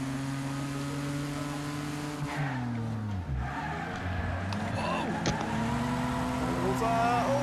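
Race cars roar through a racing video game, several engines droning with pitch sweeps as they shift and corner, with brief tire squeal amid the steady mechanical hum.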